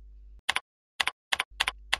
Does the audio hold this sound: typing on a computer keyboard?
yes